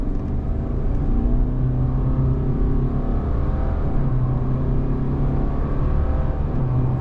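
A 2023 Subaru Crosstrek Limited accelerating back up to speed on the road, heard from inside as a loud, steady engine drone and road rumble with rising engine tones and no talk.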